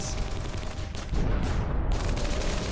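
Dense gunfire sound effect in a comic dub, rapid overlapping shots forming a loud, continuous fusillade with no pauses.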